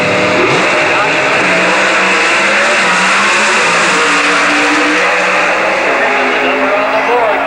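A 1988 Oldsmobile drag racing car from Chester, Virginia roars loudly and steadily down the strip at the NHRA Winternationals in Pomona, its engine note climbing under a race announcer's voice.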